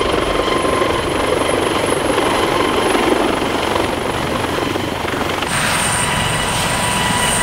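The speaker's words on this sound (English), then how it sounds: "the nice commodity of flying out here on a helicopter" Steady, loud rotor roar and whine of a helicopter flying nearby over snow, continuous throughout with a constant chopping drone and no talking.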